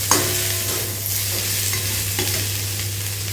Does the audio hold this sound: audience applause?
no